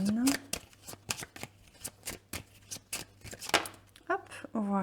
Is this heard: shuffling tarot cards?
yes